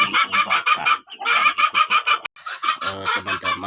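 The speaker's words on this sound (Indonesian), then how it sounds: "saat sekarang saya berada di kandang ayam kampung saya sistem perblokan" Free-range village chickens in a block-system coop, with a close, loud run of repeated clucks and short calls in quick rhythmic bursts, with brief pauses between phrases.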